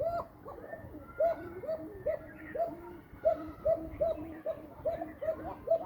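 Bashiraj pigeons coo again and again in a steady, rhythmic series of soft, throaty calls close by. No one speaks over them.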